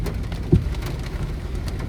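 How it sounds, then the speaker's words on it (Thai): Raindrops begin to hit a car driving through heavy rain in Samut Prakan. A few separate taps land over a steady low road rumble, with no talking. "เม็ดฝนเริ่มมาเลย"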